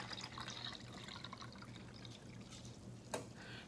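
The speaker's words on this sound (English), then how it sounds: "I'm going to pour my liter into the 4 cups and see how it compares." Water from a liter container poured into measuring cups in a classroom demonstration, a soft, continuous trickling and splashing heard faintly, with one brief clink near the end.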